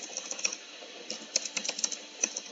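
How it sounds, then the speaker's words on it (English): Fast typing on a computer keyboard, with quick irregular bursts of close, fairly quiet key clicks and short pauses between runs. "I'm typing really fast,"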